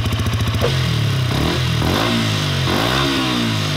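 A Yamaha YZF-R125 motorcycle fitted with an Akrapovič exhaust revs hard nearby, with a pulsing idle giving way to loud, rising and falling throttle blips that rasp and clatter, with no voices over it.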